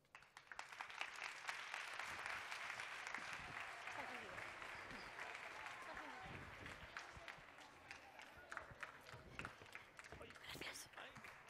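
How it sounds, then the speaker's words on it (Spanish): Audience applause in a university library anniversary science festival, sustained crowd clapping filling the hall at moderate distance, fading slightly as it continues, with some speech over it. "venga esos aplausos, claro que sí, muy bien"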